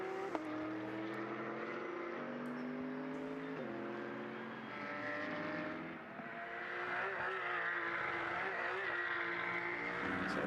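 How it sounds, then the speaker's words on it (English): Porsche flat-six race cars lap Mugello circuit in a GT endurance race, their engine notes rising and dropping through gear changes at a steady distance. Commentary plays faintly underneath. "I love listening to those flat sixes around this circuit"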